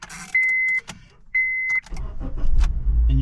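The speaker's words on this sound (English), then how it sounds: "Hear this? It's the starter relay" Rapid clicking from a Honda Civic's starter relay with a faulty ignition switch, two sustained buzzy bursts separated by pauses, followed by a low rumble building at the end.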